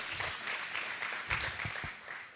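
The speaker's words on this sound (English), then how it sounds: "Give us a round of applause." Luncheon audience applauding, a fairly short burst of clapping with a few sharper individual claps standing out near the middle, moderately loud and fading toward the end.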